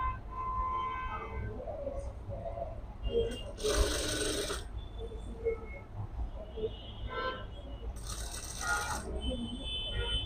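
A sewing machine stitches a rope into the shoulder of a jacket, running in two loud bursts of rapid mechanical whirring with quieter clicks and handling noise in between.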